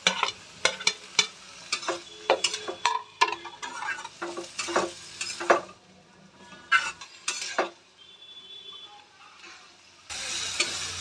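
Chickpeas and potatoes are stir-fried in spices in a pan, with a spatula scraping and knocking the cookware in a quick irregular rhythm over a soft sizzle. The stirring stops partway, leaving a quieter sizzle before a louder hiss at the end.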